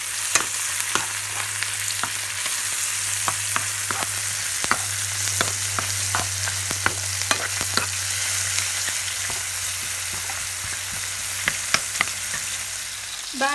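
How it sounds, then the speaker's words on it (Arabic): Onions frying in a pan with flour and curry powder for an Iraqi saffron fish dish, a steady close sizzle broken by frequent utensil scrapes and taps as the mixture is stirred, with no talking. "بعد ما اتحمر البصل صار هذا لونه ذهبي"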